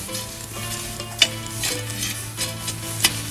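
Glowing campfire embers are raked back to make room for a camp oven, giving a steady crackling hiss with soft scraping and a couple of sharp ticks, close and fairly quiet.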